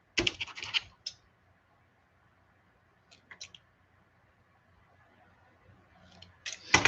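Trimming the ends off fishing lure jigs, likely with cutters: a few short, sharp clipping and scraping bursts at the start and end, with small faint clicks in between and quiet gaps.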